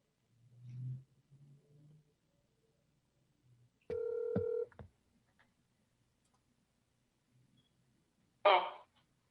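A telephone line during a city council meeting call, with a short steady electronic tone, a couple of clicks, and a brief burst of noise near the end, all isolated against quiet with a faint murmur early on.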